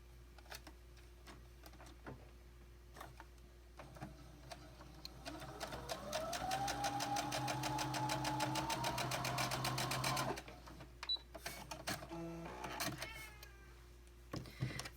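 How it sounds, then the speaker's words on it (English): Sewing machine stitching quilt block pieces, with a quiet start, then a fast, even whirring run of close rhythmic stitching for several seconds, followed by a stop and a few short bursts and clicks. "we're going to sew straight on that line"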